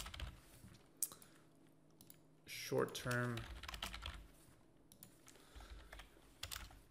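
Clicky keystrokes on a computer keyboard come in irregular bursts throughout, close to the mic, with a brief spoken phrase in the middle.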